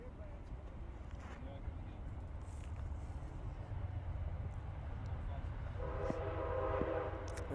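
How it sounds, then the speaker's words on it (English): A train rumbles past a cricket ground during a veterans T20 final, a steady broad roar that swells toward the end with a sustained horn blast, under faint commentary. "And there you can see the train passing by."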